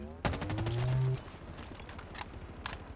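Pistol gunfire in the video game Halo Infinite, a sharp shot followed by a few quieter reports amid a busy game mix of tones and effects.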